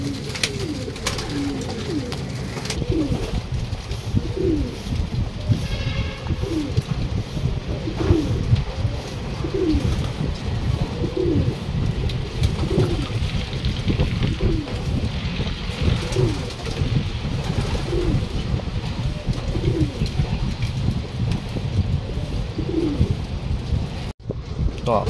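A group of pigeons coos repeatedly at close range, the soft throaty calls recurring at a steady, regular pace over a constant low background hum. No one speaks.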